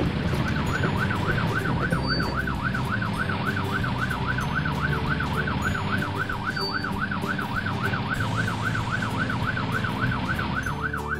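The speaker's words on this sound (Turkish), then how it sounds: "Ambulans göreve gidiyor Nail Baba." An ambulance siren wails in a fast, even rise-and-fall pattern, continuous and fairly loud over low road noise.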